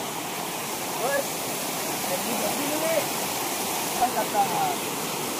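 The Hemnagar waterfall gives a steady, dense roar of falling water that fills the scene without pause, with faint voices nearby.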